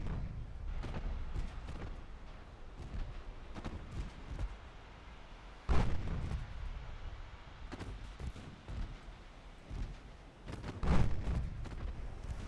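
Warship guns fire a salvo in the naval game Ultimate Admiral Dreadnoughts: two heavy, booming blasts several seconds apart, with rumbling and scattered distant thuds between them.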